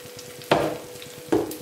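Kuzhi paniyaram batter poured into the wells of a hot pan, two quick bursts of sizzling over a faint steady hiss, close and otherwise quiet.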